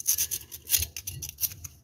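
Sandpaper rubbing the pin of a refrigerator compressor relay clean, quick close scratchy strokes in an uneven rhythm, heard on their own.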